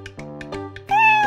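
A voice imitates a cat, giving a short series of meows followed by a longer drawn-out mew, clear and close.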